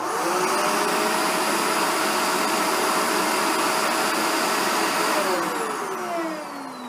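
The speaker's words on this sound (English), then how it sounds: "So that was the Dyson Ball Animal 2, and now the" A Shark NV752 vacuum cleaner runs loud and close with a steady broadband roar and whine, then the pitch sweeps down near the end as it changes load.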